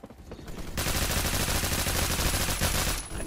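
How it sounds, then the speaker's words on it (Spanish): Sustained rapid automatic gunfire from the Roblox shooter Phantom Forces, a loud dense burst that starts after a brief quieter moment and runs almost unbroken to the end. "Todos esos tiros y no mueren, loco, en serio."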